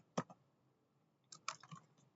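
Someone types a command on a computer keyboard in a quiet room, with a quick pair of key clicks and then a short burst of several rapid taps, near and soft.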